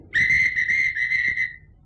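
A person imitates the guard's whistle on the Mumbles Railway with a single close, loud, sustained whistled tone lasting over a second, wavering slightly before tapering off.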